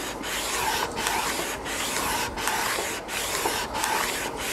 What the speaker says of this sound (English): the point here is not to push down, is to let the sandpaper do the work